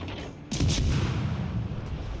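Secondary battery guns fire from warships in World of Warships Legends, a sudden loud boom followed by a rumbling roll of gunfire that stays heavy for the rest of the moment.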